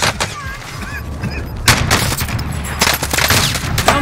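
Gunfire in the video game Call of Duty: Warzone, dense rapid bursts and cracks layered over a constant loud game din, close and continuous throughout with faint background voices.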